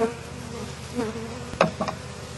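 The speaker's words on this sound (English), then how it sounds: "So what I'm going to do is brush off these bees" A steady honey bee buzz hums throughout as bees are brushed off, with a couple of sharper rustling bursts near the end, fairly close.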